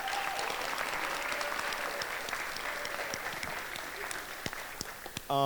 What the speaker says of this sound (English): So just a round of applause for Katsu